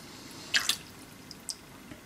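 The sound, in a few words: rinsing knife blade in clear water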